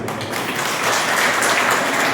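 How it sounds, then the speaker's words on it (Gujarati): Applause from a gathered audience at a charity event for children with disabilities, a steady, dense wash of clapping that holds evenly for a couple of seconds without pause. "તો ખાસ આ ટીમ માટે તો આપણે તાળીઓ પાડવી"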